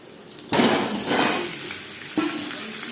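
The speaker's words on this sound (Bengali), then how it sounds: "লবণ হলুদ দিয়ে আলু ভেজে নেব" Potatoes with salt and turmeric drop into hot oil and burst into a loud, close sizzle that slowly fades, then flare again with a second sharp hiss.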